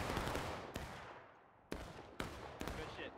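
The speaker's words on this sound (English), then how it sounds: "Alright, you're going to fire down this line, boys." Rifle volleys and scattered shots crack in the War of Rights video game, several sharp loud reports spaced irregularly over a rumbling, echoing battlefield din.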